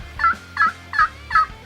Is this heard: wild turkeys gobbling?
yes